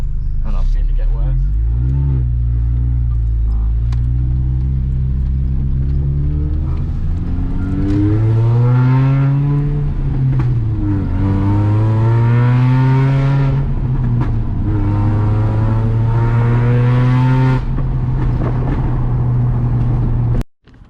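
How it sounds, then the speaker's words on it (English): A supercharged R53 Mini revs hard and accelerates close by, its engine tone sweeping up and down in long loud pulls with a few sharp pops and bangs, then cutting off abruptly at the end. "It's disturbing them pops and bangs."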